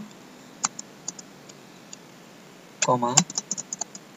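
Sparse, faint key clicks from a computer keyboard while matrix rows are entered in Mathematica, then a quick burst of several keystrokes followed by a few more scattered taps.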